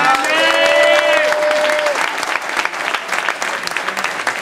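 Loud applause from a stadium crowd greeting Vicente, a Celta legend, at a players' presentation before a Celta legends versus football stars match; steady dense clapping throughout, with whistles or cheers early on.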